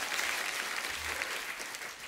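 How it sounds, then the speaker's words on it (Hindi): Studio audience at a comedy show applauding, a dense continuous clapping that holds steady for a couple of seconds with no voices over it. "जोरदार तालियां चंदू के लिए।"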